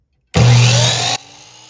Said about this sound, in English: I'm going to try and cut it at an angle here